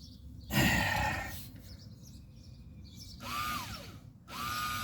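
Electric parking brake motor on a 2019 Hyundai Santa Fe, run to retract the caliper piston, whirring in three loud bursts, the first short and the last two with a rising-then-falling pitch sweep, separated by quiet gaps.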